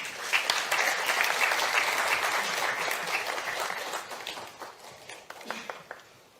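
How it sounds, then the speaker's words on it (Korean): Applause fills the hall at a Seoul Digital Bio City project briefing as the mayor is welcomed, with sustained crowd clapping that gradually thins into scattered claps and fades. "큰 박수 부탁드립니다."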